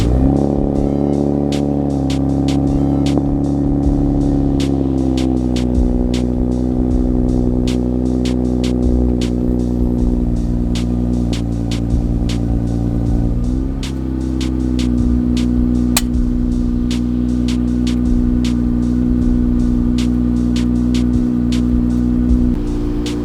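An Infiniti Q50 on air suspension cruises along the road at the start of a road trip. The engine drone is loud and steady with shifting tonal hum, and frequent small clicks and rattles sound throughout.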